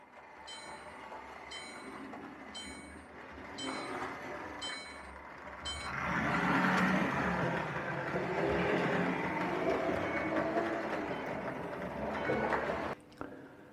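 Märklin model train locomotive driving past on a model railway layout during a night run, a steady rolling rumble that swells louder around midway as it passes close, with faint beeping tones early on.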